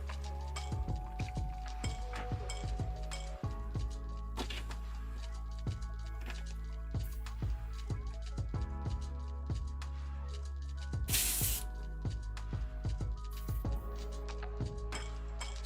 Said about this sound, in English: Just rinsing some of this solvent out of here.